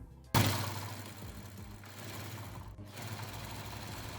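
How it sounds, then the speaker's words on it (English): A sewing machine sews a placket onto a shirt sleeve at the opening cut at the top of the sleeve. It starts abruptly and hums in one continuous close run that lasts several seconds. "we are going to sew the placket on"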